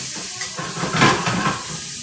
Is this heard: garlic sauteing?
yes